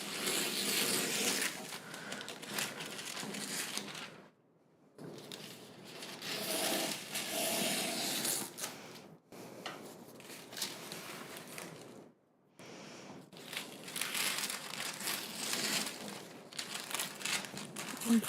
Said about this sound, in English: Just so I can just use a pair of scissors.